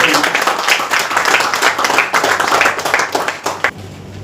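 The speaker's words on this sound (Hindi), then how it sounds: "प्लीज उनके लिए एक जोरदार तालियों से स्वागत करें।" An audience in an auditorium gives invited nurses a strong welcome at an International Nurses Day celebration. Dense, loud clapping runs almost throughout with some voices mixed in, then thins out near the end.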